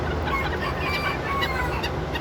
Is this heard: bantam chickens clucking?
yes